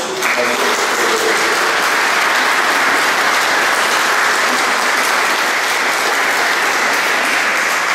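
A church congregation breaks into loud, sustained applause, a dense even wash of clapping that holds steady from start to finish.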